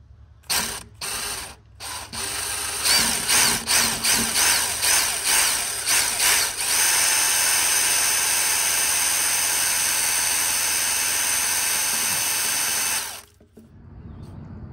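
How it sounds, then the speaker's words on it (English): A power drill works at a broken bolt on a 1944 Allis Chalmers B tractor. It starts with several short bursts, then settles into a steady loud whine that runs for about seven seconds and stops abruptly. No voices. "I'm gonna try to drill it out and use an easy out."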